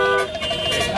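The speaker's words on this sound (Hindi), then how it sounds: "ये जो तुम धड़ाधड़ हॉर्न बजा रहे हो" A car horn blares loud and close in a continuous blast during a hurried drive, over road and traffic noise.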